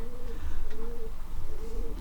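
Pigeons coo in soft repeated low murmurs, several overlapping calls close by, over a dull rumbling background with no speech.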